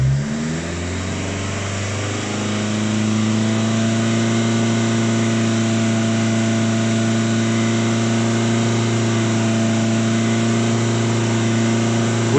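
Fiat Grande Punto engine revving with an EGR valve and water thermistor issue, held at a steady raised speed of around 3000 rpm after a brief climb, a continuous close, loud drone with no talking.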